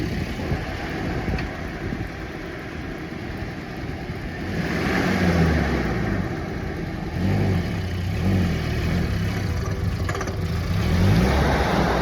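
A bogged 4WD in third gear, engine labouring and revving in rising and falling surges over steady rumbling, close and moderately loud.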